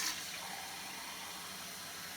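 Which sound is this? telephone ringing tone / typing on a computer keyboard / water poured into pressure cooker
water poured into pressure cooker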